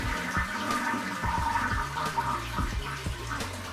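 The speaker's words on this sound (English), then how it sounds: "Flush the toilet and listen." A household toilet flushing in a bathroom, a steady broadband rush of water filling the space at close range, without talk.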